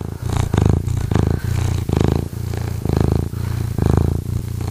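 A cat purrs steadily and close up, with a rhythmic rise and fall of about five breathing cycles and no other sound.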